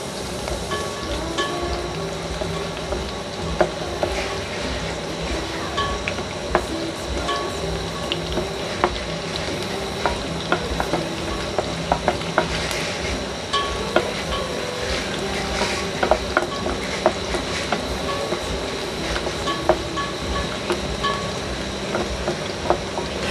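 French beans stir-frying in garlic butter in a pan give a steady close sizzle, with scattered clicks and scrapes from stirring and an occasional clink of utensil on the pan.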